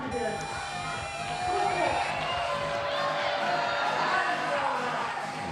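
A large crowd cheers and whoops at the Dock Masters 2025 finals, a broad sustained roar, with a commentator talking over it and the noise swelling midway.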